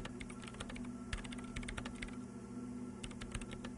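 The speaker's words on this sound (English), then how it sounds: "her hands typing hundreds of commands into the machine" Rapid keyboard typing from the video game Disco Elysium, with quick irregular key clicks running through the whole stretch over a low steady machine hum, quiet and close.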